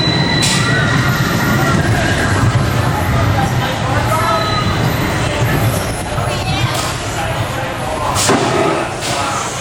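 Steel roller coaster trains of California Screamin' at Disney's California Adventure in 2001, a loud continuous rumbling roar of wheels on track with clattering thumps, filling the whole clip while people talk nearby.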